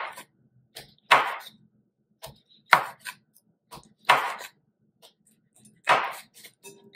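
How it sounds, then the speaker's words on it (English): A knife that needs sharpening slices food thinly on a cutting board with about five crisp, separate chops at an uneven pace, lighter taps in between, close and clear against quiet. "I'm just trying my best to get it as thin as I can with a knife that probably could use some sharpening."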